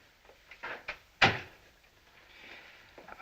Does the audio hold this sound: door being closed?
yes